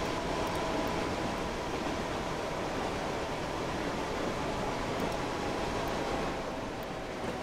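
Pendolino train departing in Transport Fever 2, heard as a steady, unbroken rolling rumble with a broad noisy wash and no distinct peaks, continuing evenly throughout.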